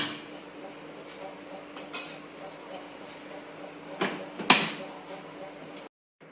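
A lid goes onto a pot of sheer khurma, a milk-based Eid dessert, after the gas is turned off, giving one sharp metallic clink and a brief rattle near the end, set against a low background hum and a voice speaking.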